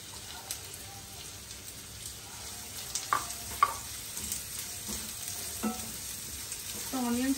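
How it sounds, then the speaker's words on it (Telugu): Chopped onions frying in a pan for chicken lollipops, a continuous soft sizzle with occasional spoon-stirring scrapes and clinks, fairly quiet and close. "కాసేపు ఫ్రై అవ్వాలి."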